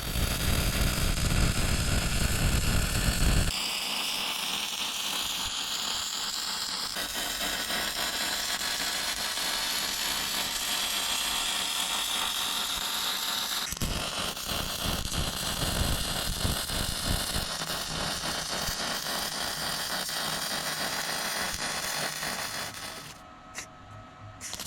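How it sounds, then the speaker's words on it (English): Cover weld laid on a steel diff cover with a 3/8 ring and 1/4 plate, a steady close crackling buzz of the arc that runs unbroken for most of the stretch and then stops near the end. "So let's flip it over and do the cover weld."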